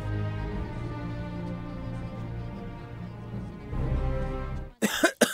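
A radio advertisement for Plemix Lagundi cough syrup and capsules: a music bed plays, then stops, and a few harsh, loud coughs follow at the end.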